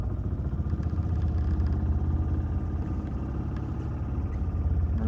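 A Club Car golf cart engine idling just after a cold start, a steady low chugging putter that holds evenly throughout at close range.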